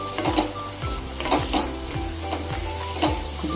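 Grated beetroot fries in a pan with a spoonful of dried grated coconut, a soft steady sizzle broken by regular scraping strokes of a spoon against the pan, close and without talk.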